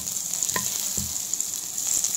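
Butter melts and sizzles in a hot pan, a steady bright hiss broken by a couple of sharp clinks of a utensil against the pan.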